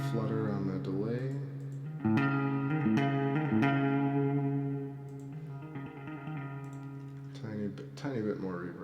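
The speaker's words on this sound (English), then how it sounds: "A little bit of feedback, a little flutter on the delay." Live electronic music runs through a delay with feedback and flutter, sustained synth tones repeating and smearing into wobbling, warbling echoes that swell and fade in layered trails.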